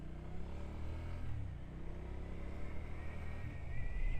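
A 2025 Triumph Speed Twin 1200 motorcycle engine gives a throaty, low rumble while riding, fairly quiet and steady, swelling slightly toward the end.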